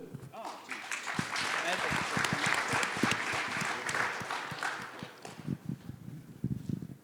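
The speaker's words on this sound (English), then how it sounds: "Big round of applause for Bill." An audience claps loudly for several seconds, then the applause thins into a few scattered claps.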